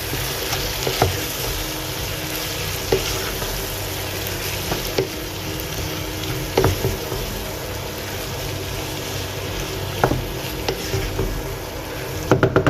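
Prawns, potato and okra with garam masala frying in a pan, a continuous loud sizzle punctuated by scraping clicks and knocks as the mixture is stirred.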